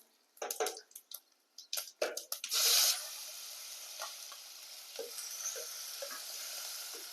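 Asafoetida, curry leaves and whole spices hit hot oil, giving a burst of crackling sizzle that settles into a steady fry with scattered pops, after a few spoon clinks at the start and with no voices.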